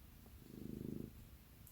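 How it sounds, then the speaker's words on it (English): A pet cat purrs softly at close range, a low rumbling hum that swells in the middle and fades out, with no voices. "Purring."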